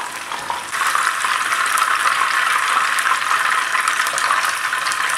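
Pieces of sea bream frying in hot oil, a steady dense sizzle that starts softer and swells after the first second, then holds constant and close with no talking.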